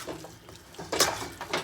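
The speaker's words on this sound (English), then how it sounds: "Give it a little stir, mix it all up." Cauliflower dirty rice being stirred in a pan, a few soft scraping and clinking sweeps of a utensil against the pan, close and moderately loud, brief and without talk.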